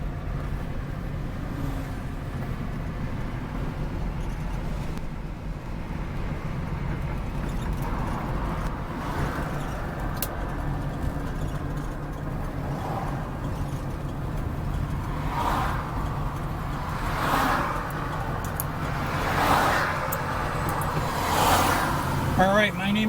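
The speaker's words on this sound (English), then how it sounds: "I just wanted you to get an idea of just how well it drives with no hands on the wheel." A 1974 Oldsmobile Cutlass Hurst cruising down the road, its steady engine drone and tyre rumble running continuously at moderate level, with occasional swells of road noise and faint talk.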